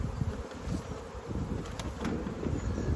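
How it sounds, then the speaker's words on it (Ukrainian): Young queenless Carpathian honeybees buzz in a dense, continuous hum up close. Individual bees flick past now and then against the steady swarm drone. "Це молода бжола, вона осиротіла."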